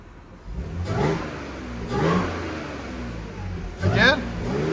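A supercharged 2013 Audi S4 3.0L V6 with an AWE cat-back exhaust and Vibrant resonators revs three times in short blips, each a mid-pitched swell from a steady idle, close to the microphone.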